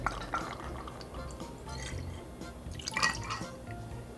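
Lime syrup poured into a cocktail in a shaker-style mix, giving a soft, close liquid trickle and drips over a low background hum, with a brief brighter splash near the end.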